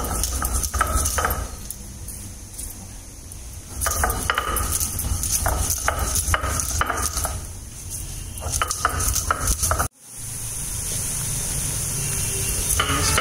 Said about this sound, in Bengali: আমরা একটু শিলেতে হালকা গুঁড়ো করে নেব